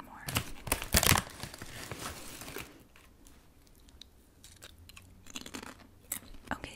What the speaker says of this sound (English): I finished crunching that chip